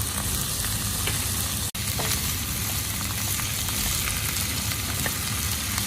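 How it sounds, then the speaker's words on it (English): Spare ribs stir-fried with sugar over low heat give a steady, close sizzle and hiss that runs unbroken apart from one brief dropout, with no talk. "Stir fry in low heat."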